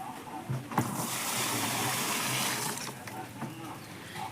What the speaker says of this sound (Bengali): চিটে গুড়টাকে ভালো করে গুলে নেওয়ার পর আমরা এই ড্যামের মধ্যে ঢেলে দেবো।